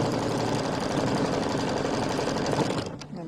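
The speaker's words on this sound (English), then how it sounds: "We're going to stitch that down." Sewing machine stitching down the corner of a quilted bench pillow, a loud, fast continuous rattling hum that runs steadily and stops abruptly near the end.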